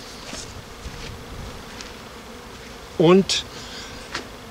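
Honeybees buzz in a low, steady hum while they are swept through a funnel into a small Apidea mating hive. A voice briefly speaks over them once.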